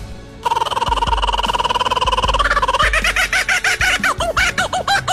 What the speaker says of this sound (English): Kookaburra.